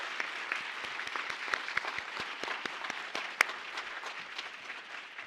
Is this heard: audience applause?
yes